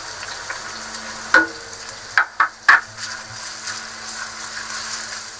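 Whole garam masala spices, including black cardamom, cloves and star anise, sizzle in hot oil for a Hyderabadi tomato meat curry, with three brief sharp crackles over a steady soft frying hiss.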